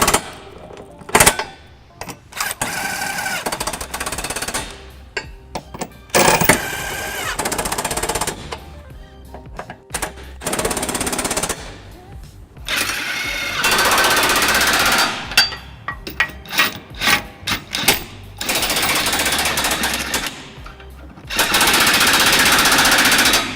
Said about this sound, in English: we're going to run these bolts up using a 17mm socket, and I've got a little impact here